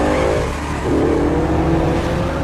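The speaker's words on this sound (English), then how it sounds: "then they begin a car chase together to capture the second killer" Cars racing in a chase, a loud close engine roar that surges and revs higher midway, with hints of tire squeal over the continuous drone.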